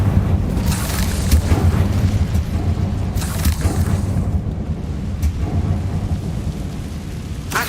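Repeated casts of the Incendio fire spell in Hogwarts Legacy erupt as heavy, roaring bursts of flame, with several thunderous surges rising over a continuous rumbling, crackling bed.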